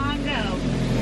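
Boat on the Congo River ride at Magic Kingdom, a steady low motor drone and water rumble, close and continuous, with a voice speaking over it.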